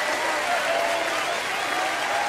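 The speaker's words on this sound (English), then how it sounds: "A huge round of applause, ladies and gentlemen" A large crowd applauds loudly as a performer is called onto the stage, a thick, constant roar of clapping with a faint cheer running through it.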